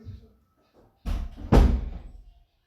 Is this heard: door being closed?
yes